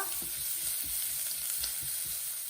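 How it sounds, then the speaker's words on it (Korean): Abalone stir-fried with soaked rice in a pan, a close steady sizzle broken by regular soft scraping strokes of stirring, no voices. "전복을 살짝 볶아주면 여기다가 불린 쌀을 같이 넣어서 볶아주세요"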